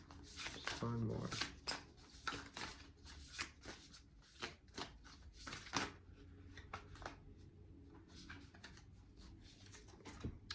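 Tarot cards being shuffled and handled close by, in quick riffling bursts and soft slaps, with a person talking over the card sounds throughout.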